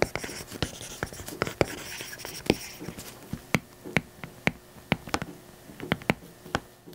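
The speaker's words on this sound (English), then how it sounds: "turns the smooth like glass surface that feels quite unnatural into something that feels and even sounds more like using pencil and paper" A stylus writing on a paper-like matte screen protector on a Samsung Galaxy S24 Ultra, giving close, dry scratchy strokes punctuated by sharp taps at an irregular pace, with no talk.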